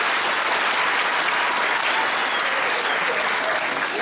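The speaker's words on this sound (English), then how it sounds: "Can we clap for Muzei?" Steady, dense applause from an audience at a college graduation ceremony in West Nile, sustained and fairly loud throughout with no break.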